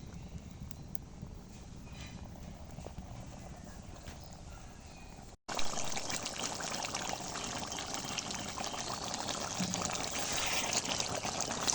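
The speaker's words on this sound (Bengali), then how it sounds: "এবারে পরিমাণ মতো পানিটা দিয়ে দেবো" Water pours steadily into a pot of chicken curry cooking on a stove, a continuous splashing trickle that briefly cuts out, then returns louder and fuller for the rest of the pour.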